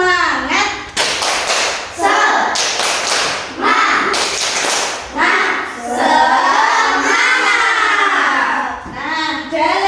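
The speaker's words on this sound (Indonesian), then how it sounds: "Tepuk semangat." A classroom of children claps the rhythmic 'tepuk semangat' routine in loud, patterned bursts of hand claps mixed with chanted voices, close and lively, with an adult voice joining in.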